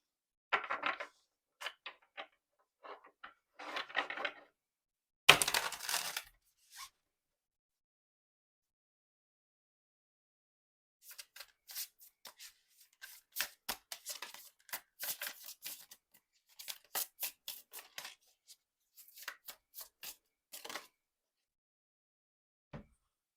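Tarot cards being shuffled and drawn from the 8th House Tarot deck, soft close rustles and quick flicks in scattered bursts with long silent gaps, faint overall.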